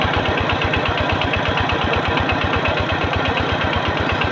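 Small engine driving a water pump runs steadily nearby, a loud even chugging idle with a fast regular pulse throughout.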